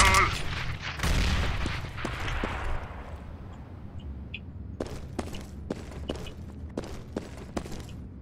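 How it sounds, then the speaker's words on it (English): A grenade explosion followed by gunfire in a shooter video game: a heavy boom at the start that fades out, then a string of sharp, spaced shots at moderate distance. "Throwing flashbang. Grenade out. Fire in the hole."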